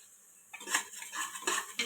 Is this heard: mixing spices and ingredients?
yes